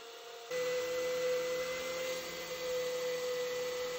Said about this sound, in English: now I'm going to use my drill, and I'm going to start with just using a narrow drill bit, and I'm going to put it on hammer function